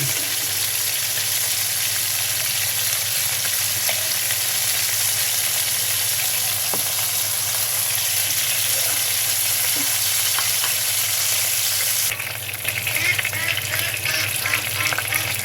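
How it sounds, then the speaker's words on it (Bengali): Onion fries in oil left over from frying boal fish, giving a constant, even sizzle that holds at the same level throughout and turns a little brighter near the end. "এই তেলের ভিতরে, মাছ ভাজি তেলের ভিতরে আমি পেঁয়াজ দিয়ে দিয়েছি।"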